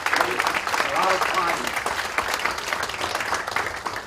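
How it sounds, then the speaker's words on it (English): An audience at a memorial symposium for Dr. Georgios Papanikolaou claps steadily, a sustained patter of applause that carries on throughout with a voice speaking faintly under it. "let's give a nice applause to all the youngsters"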